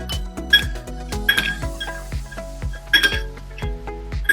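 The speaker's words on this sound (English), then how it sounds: "And then you're gonna stir it around with your spoon." A spoon stirs dish soap in a container for rainbow bubbles, making a quick run of bright clinks and taps against the sides in an uneven rhythm.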